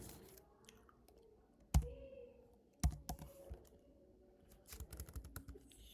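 Computer keyboard typing close up, scattered clicks with a few loud isolated key strikes, then a quicker burst of keystrokes toward the end over quiet room tone.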